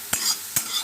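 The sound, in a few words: dry-roasting moth beans (matki) in a pan, stirring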